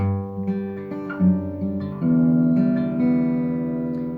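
An acoustic guitar plays the second phrase of a song alone and up close, with a few plucked notes and then a sustained ringing chord.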